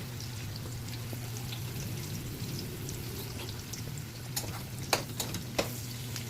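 A bitter gourd dish with salt is stirred in a sizzling pan, giving a steady frying hiss. A few sharp utensil scrapes and clicks come near the end.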